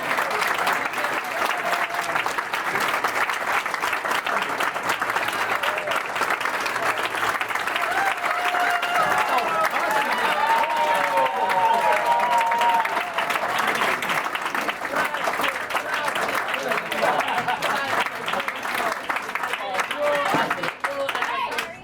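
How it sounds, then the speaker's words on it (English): Audience at a tavern show applauding steadily and loudly for over twenty seconds, dense clapping with scattered voices and a faint whistle-like tone mixed in. "This is where you clap."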